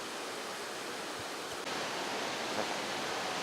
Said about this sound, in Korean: 존스 캐니언에 있는 어퍼 폭포를 촬영하고 있습니다